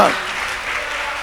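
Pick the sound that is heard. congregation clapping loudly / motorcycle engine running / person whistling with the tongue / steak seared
congregation clapping loudly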